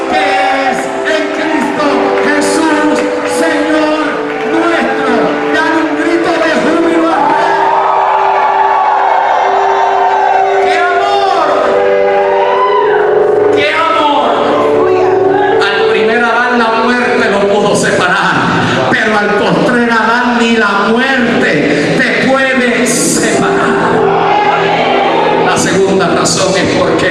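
A church congregation shouts and cheers during a Spanish-language service, a loud roar of voices that swells and overlaps with a preacher's raised voice and possible music throughout.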